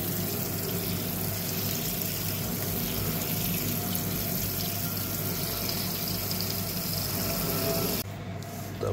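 Water is poured from a tap into a cooking pot holding beef tendons, onion and ginger, making a steady, close rushing and splashing that runs unbroken and then cuts off near the end.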